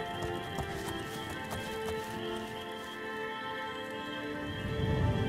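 Horse hooves clip-clop at a steady walking pace in a fantasy video game, a continuous soft patter layered over a dense, even background ambience with no talking.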